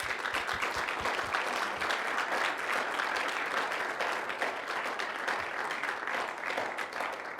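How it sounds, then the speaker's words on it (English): A school audience at Weslaco High School applauds a student signing to the U.S. Army, steady sustained clapping from a crowd at moderate distance, continuous throughout without a break. "So let's give Jesus a big round of applause."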